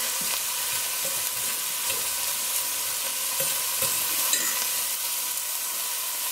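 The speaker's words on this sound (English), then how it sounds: "We're going to move around our onions." Chopped onions sautéing in a hot pan for okra and tomatoes, a steady close sizzle broken by the scrape and clack of a spoon stirring them around, with no voices.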